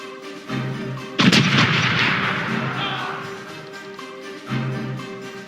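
Broadside cannons boom in Corsairs Legacy, the pirate naval game: one loud, close blast with a long rumbling decay, then a softer shot near the end, over ongoing game music.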